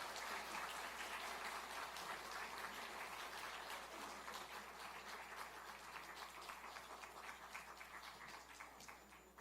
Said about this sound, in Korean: 축하의 박수 해주십시오.